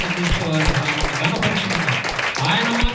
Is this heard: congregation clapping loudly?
yes